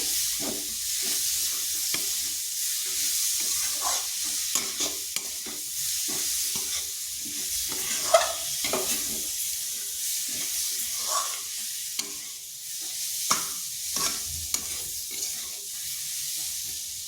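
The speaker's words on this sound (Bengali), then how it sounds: "এটা বেশ কিছুক্ষণ নেড়ে নিতে হবে আঁচটা কিন্তু মিডিয়াম আছে রাখবেন" A spoon repeatedly scrapes and stirs a mixture in a pan over medium heat for rasapuli pitha, making a steady run of soft scraping strokes over a faint hiss of steam and sizzle.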